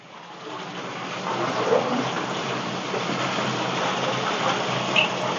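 A waterfall feature at a luxury villa swimming pool runs steadily, a constant broad rushing splash of falling water that swells slightly after the first second and stays even, with no talking.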